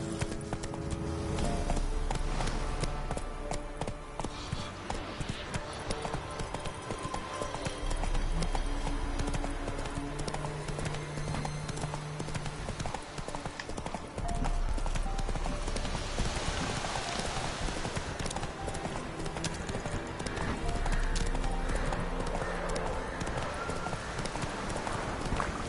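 Hooves of the horse Roach clip-clop in a steady trotting rhythm in the game Witcher 3, with faint rain and background music underneath.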